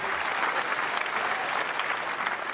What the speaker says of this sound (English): he gets a standing ovation from this fantastic crowd